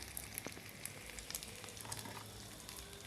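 Omelette egg mixture frying in a pan for a Spanish omelette, a faint, steady sizzle with light crackles and small pops throughout.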